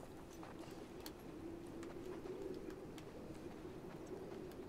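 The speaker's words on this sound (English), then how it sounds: "Oh, wow, they're pigeons." Pigeons coo softly in The Last of Us Part II, a low, steady murmur of calls under a faint background bed, with a few light clicks scattered through it.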